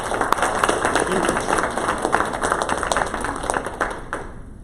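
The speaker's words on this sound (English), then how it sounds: "Let's give him a round of applause." Room applause during a student government senate meeting, a dense steady patter of clapping that holds level throughout, with some voices underneath.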